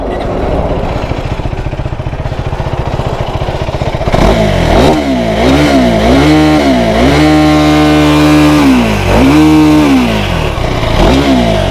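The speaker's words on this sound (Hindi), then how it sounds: "अब KTM की आवाज़ सुना देते हैं एक बार आपको।" A 2026 KTM Duke 390 single-cylinder engine idles with a rapid, buzzy chatter, then is blipped and revved repeatedly in rising and falling sweeps, held high near the soft limiter, loud and close with no talk.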